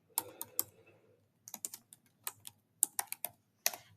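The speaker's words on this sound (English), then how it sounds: "I'm gonna type what I wanna say" Quiet clicks of fingers typing on a computer keyboard come in irregular bursts of separate keystrokes, with short pauses between groups, close up and without talk.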